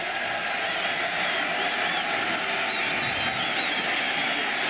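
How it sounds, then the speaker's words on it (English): A large crowd roaring steadily at Indiana's Memorial Stadium on a third-down play during a 1999 Michigan vs Indiana college football game, a dense, sustained wash of cheering and noise throughout. "This Indiana crowd trying to become a factor on third and nine."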